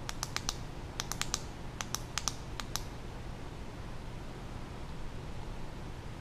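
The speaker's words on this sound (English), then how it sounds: "if I double click it, it should go to strobe" A JET-TH15 tactical flashlight switch clicks in sharp, close bursts, quick doubles and triples spread over about three seconds, then quiet room hiss with no talking.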